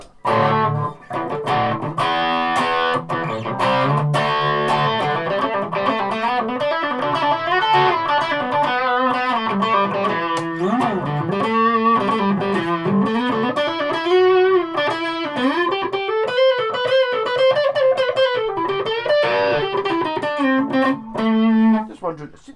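A distorted electric guitar, a Fender Jazzmaster, plays sustained, gritty chords and sliding bends, loud and continuous with a few brief gaps.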